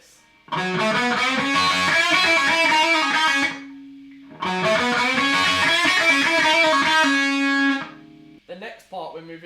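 Distorted electric guitar plays a rock blues lick at full speed, two quick phrases of bent, ringing notes with a short pause between, loud and up close.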